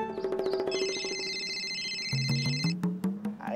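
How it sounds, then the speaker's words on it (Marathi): A mobile phone rings with an incoming call during a meal in a Marathi TV serial scene, a bright repeating electronic melody that plays on for a few seconds before giving way to other sounds. "आयला हे फोन पण आहेत ना, बरोबर खाताना पितानाच टपकतात रे."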